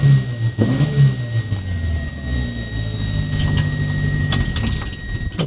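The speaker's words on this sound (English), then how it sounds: "Have a quick listen to the engine." A 1998 Subaru Sambar kei truck's 660cc four-cylinder engine idles slightly stumbly, a steady low rumble close by with a faint whine and some metallic clatter toward the end.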